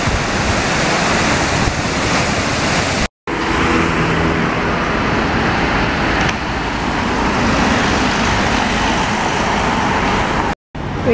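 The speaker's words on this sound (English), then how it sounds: "Waiting for the bus at the Bondi beach." Street traffic at a bus stop by Bondi Beach in Sydney: a continuous broad wash of passing cars and road noise with a surf-like hiss, loud and close, broken by two brief silent cuts.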